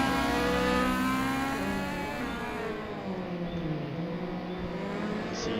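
Race car engines drone and rev continuously in a sim-racing game at Wallerfield Raceway, a dense, loud, steady whir throughout without speech.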